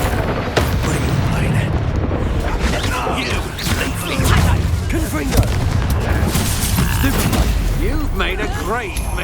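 An explosive Confringo spell goes off in the Hogwarts Legacy video game: heavy booming blasts and crashing impacts sit within dense battle effects, with voices speaking over the din.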